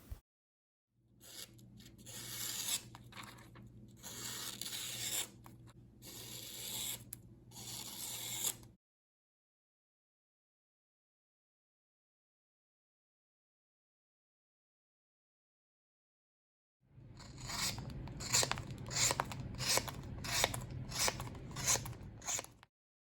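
A Spyderco Bodacious folding knife slices repeatedly through rope and cardboard in two bursts of close, rasping strokes, separated by a long silent gap, with no talking.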